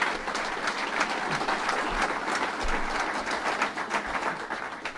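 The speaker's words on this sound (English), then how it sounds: "Let's give him a round of applause, Kevin Law." A crowd at a governor's bill-signing event gives a steady round of applause for a local official, with even, sustained clapping and no voices over it.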